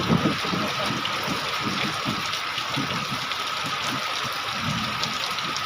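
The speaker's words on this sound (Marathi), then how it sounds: "पाऊस लय मोठा आहे बरं" Steady rush of heavy rain pouring down on a small village in Latur district, a dense continuous hiss with water splashing and a few faint voices underneath.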